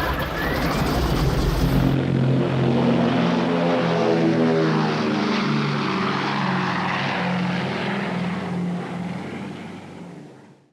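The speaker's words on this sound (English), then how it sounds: "The bombers form up over England" Propeller engines of B-17 bombers forming up over England droning in a deep, steady multi-engine hum with beating tones, loud and sustained before slowly fading at the end, with no speech.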